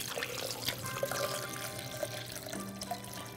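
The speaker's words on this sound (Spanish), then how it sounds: "Vamos a agregar aquí un poquito de agua" Water poured into a blender jar holding pineapple chunks, a steady soft trickling pour throughout at low level.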